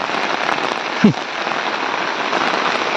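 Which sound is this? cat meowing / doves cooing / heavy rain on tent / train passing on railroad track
heavy rain on tent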